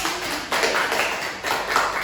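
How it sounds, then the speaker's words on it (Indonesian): Primary school classroom applause, a short burst of children's clapping that comes in two or three uneven waves, moderately loud and close. "tepuk tangan dulu buat Robin."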